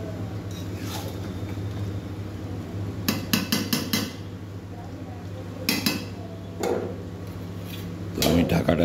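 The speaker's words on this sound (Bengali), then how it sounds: "তো আমি ঢাকাটা দিয়ে দিলাম একটু" A lid goes onto a cooking pot of chicken with a few sharp metallic clanks and clinks, close by, over steady kitchen background hum and some faint talk.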